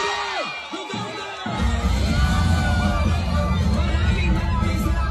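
A big crowd at a political power rally in Manila shouts, whoops and cheers loudly and without a break, swelling into a dense roar after a brief shouted call.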